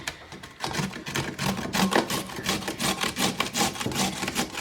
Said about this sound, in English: I'm just going to grate the last one in